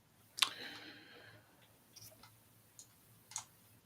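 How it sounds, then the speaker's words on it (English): Sparse keyboard typing at a desk during an online call: a sharp key click followed by a few scattered, quieter taps spread irregularly over several seconds, faint and close, with no talking. "I hear the typing going on."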